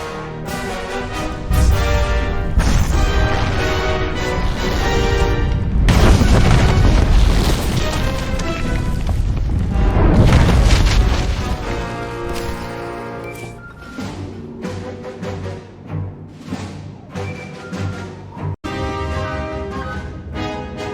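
A deep, rumbling blast in Star Wars: The Old Republic swells into a long roaring boom that lasts several seconds, with dramatic music before and after it.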